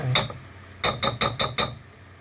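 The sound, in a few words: stirring honey in a cooking pan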